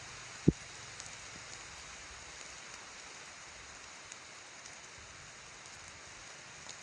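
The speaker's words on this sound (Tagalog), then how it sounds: "Malakas yung ulan tol." Steady rain falls as a faint, even hiss, with one sharp close knock near the start and a few soft drips scattered over the rest.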